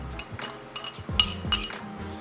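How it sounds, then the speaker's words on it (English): Dried ground siling labuyo chili flakes stirred in a deep mixing bowl, a string of quick clinks and scrapes of a utensil against the bowl, close and fairly quiet. "So first we will mix in our chili flakes."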